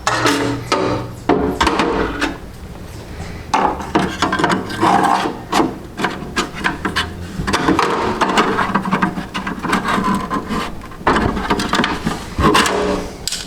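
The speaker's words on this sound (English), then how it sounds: "I'm going to slide a hacksaw blade down in here" Hacksaw blade scraping and sliding into a Craftsman metal tool box, a run of close, uneven rasping and rubbing scrapes with brief knocks, loud and alone.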